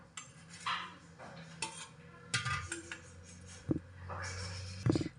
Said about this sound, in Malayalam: വേണ്ടത്ര പാലൊഴിച്ച് ചേർത്തിട്ട് നന്നായിട്ട് മിക്സ് ചെയ്തെടുക്കാം കേട്ടോ